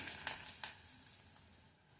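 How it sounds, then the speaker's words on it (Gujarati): Soft, steady sizzling of spices frying in hot oil for a tempering, with a few brief crackles; no talking. "હવે આટલી વસ્તુને આપણે થોડી શેકાવા દેશું અને વઘાર તૈયાર કરી લેવાનો"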